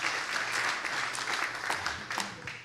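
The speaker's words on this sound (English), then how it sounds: "Go ahead and give yourself a round of applause, all right?" A Bible study group gives itself a round of applause: close, fairly dense clapping from a modest crowd that holds steady, with a few louder individual claps near the end.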